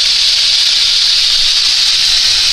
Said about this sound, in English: We're going to heat the water for potatoes for the instant potatoes in the kettle.